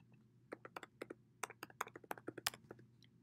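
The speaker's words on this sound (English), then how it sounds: "I'm going to go ahead and type mine in." Password being typed on a Mac computer keyboard in a quiet room, a quick irregular run of soft, close key taps lasting a few seconds with no talking.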